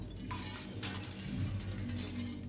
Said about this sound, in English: so I'm just gonna try and shatter it.